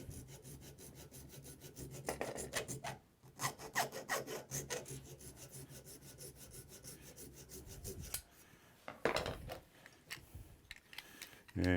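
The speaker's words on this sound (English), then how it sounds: "And now I have to cut the groove a little bit deeper." A custom wood carving tool having its groove cut deeper, with steady close rasping and scraping strokes in rhythmic bursts, a short pause near the middle, then more filing strokes.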